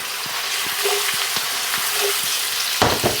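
Vegetables, cooked down until softer than zucchini, saute in a pan on the stove, giving a steady close sizzle and fry broken by light clacks of stirring and a louder scrape near the end.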